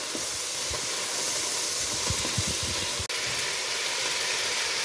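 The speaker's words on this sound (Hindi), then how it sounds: "लहसुन के साथ चिकन को मैं फ्राई कर लेती हूँ।" Chicken fries with garlic in a hot pan, a loud, steady hiss and sizzle with scattered soft pops and one brief dropout partway through.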